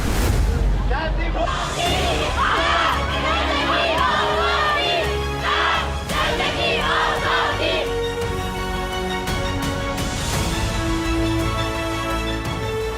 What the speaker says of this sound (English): Crowds made up of young men and women chased the police.